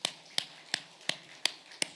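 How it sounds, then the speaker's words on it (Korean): A church congregation claps in a steady even beat, six sharp claps spaced about a third of a second apart, fairly quiet, with no talking. "할렐루야! 박수."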